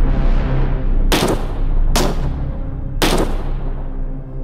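Three sharp gunshots in a Filipino horror audio drama crack out about a second apart, each a loud burst that decays over a low, rumbling background.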